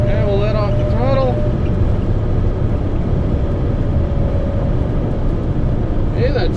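A car with a bent axle cruises at about 90 km/h, giving a loud, steady low drone of road and drivetrain rumble throughout. Voices talk over it inside the cabin.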